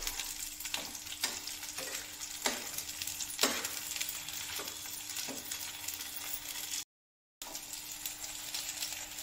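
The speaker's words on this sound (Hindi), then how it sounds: "इस तरह से मोमो रोल को हल्का हल्का फ्राई कर लीजिए" Veg momo rolls fry lightly in oil with a steady, close sizzle, broken by a few soft clinks and stirring taps, then a brief cut to silence before the sizzling resumes.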